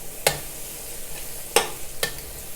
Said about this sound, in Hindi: अब हमारी गाजर थोड़ी सी फ्राई हो चुकी है